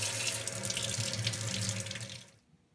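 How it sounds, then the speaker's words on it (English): Tap water runs steadily over a Dyson cordless vacuum filter in a sink, a close, loud rushing splash that stops abruptly near the end, with no talk. "If that's the case, just rinse it out again."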